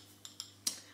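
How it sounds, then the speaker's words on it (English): A spoon clinks lightly against a bowl of peanut butter and jam oats, three short, close taps with the last one loudest, over a quiet background. "I'm gonna smash my peanut butter and jam oats."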